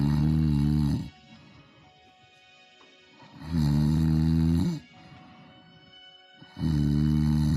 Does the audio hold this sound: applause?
no